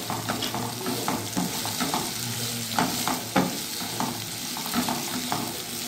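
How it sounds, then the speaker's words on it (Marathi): Onions sautéed in a pan for rajma masala, a continuous close sizzle broken by repeated scraping stirs of a spoon against the pan, with no speech. "कांदा व्यवस्थित आपण परतून घ्यायचा याच्यामध्ये"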